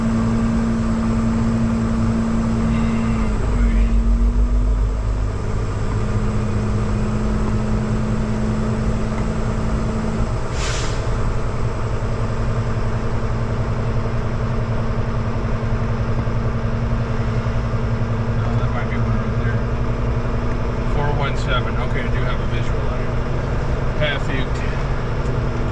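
A truck rolls slowly along a row of parked trailers, its engine droning steadily and close throughout with a low rumble, while a voice talks over it.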